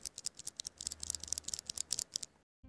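Spare mechanical keyboard switches fiddled in the hand, a rapid run of crisp, close plastic clicks and clacks in an irregular rhythm that stops abruptly near the end.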